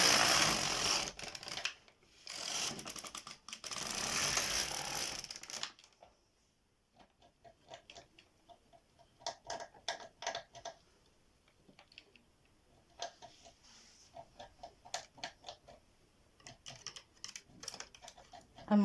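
Knitting machine carriage running across a batwing jumper piece: a loud, dense rushing clatter for several seconds, then quieter bursts of rapid ticking and rattling as the work continues.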